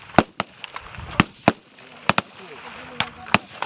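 Gunshots crack out in sharp, irregular bursts during military training exercises, a dozen or so close reports with brief gaps between them, and voices can be heard in the background.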